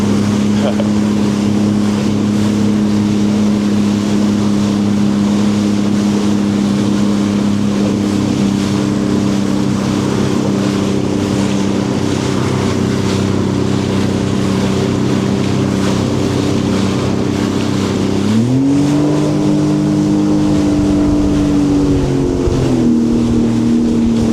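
Motorboat engine droning on Lake Erie for a long stretch, steady and loud with wind noise and water wash, its pitch rising sharply near the end as throttle changes, while other boats pass.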